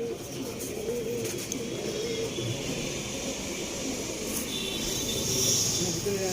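Tippler pigeons, including a male, coo inside a loft: a soft, continuous low murmur of cooing throughout, with faint voices and background noise underneath.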